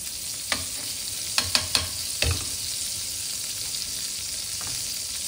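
Butter sizzles in a pan heated on a gas stove before buns are toasted in it, a soft steady hiss broken by a few sharp clinks and scrapes of stirring, with no voices.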